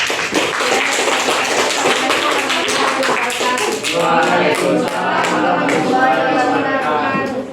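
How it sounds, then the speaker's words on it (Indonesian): A classroom of students gives a round of applause for a presenting group, dense hand-clapping filling the room steadily and loudly for several seconds, with some voices mixed in. "Kita kasih aplaus dulu."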